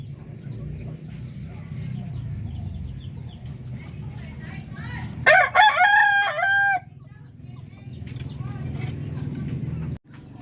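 Darag native chickens in a rural yard in Zaragoza, Nueva Ecija: a rooster crows loudly once, close by, over steady low clucking and farmyard noise.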